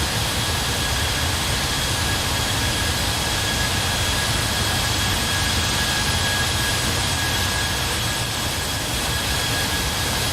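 Steady loud roar of an idling Fenix A320 airliner engine heard on the ramp in Microsoft Flight Simulator, a constant broadband rumble with a faint high whine running unchanged throughout.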